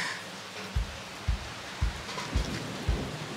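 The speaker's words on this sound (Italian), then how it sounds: "Che bello quanto piove, raga, bellissimo." Steady rain hisses over everything in a broad, even wash, with five regular soft low thuds nearby.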